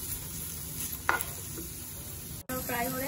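Eggplant slices frying in a pan give a continuous hiss, with a brief scrape as they are turned midway and a bright crackle near the end.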